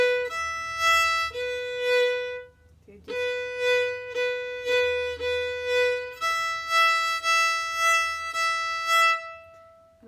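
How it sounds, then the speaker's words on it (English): A fiddle plays long bowed notes from the tune Idbury Hill, each swelling with a subtle mid-note pulse from a quickened bow. The notes are clear and close, with a few brief spoken words at the start. "I'm just slightly speeding up the bow in the middle to make a little subtle pulse."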